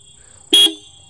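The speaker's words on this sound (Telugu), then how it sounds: "చాలా లౌడ్ హారన్ ఉంది" A Yamaha R15 M motorcycle's horn gives one short, loud, close honk of about a fifth of a second against a quiet background.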